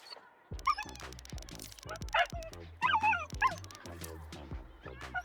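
A small, friendly bichon dog in the horror game Soviet Spooky Tales gives repeated whimpers and yips in short bursts, mixed with soft barks over a busy background with music-like tones.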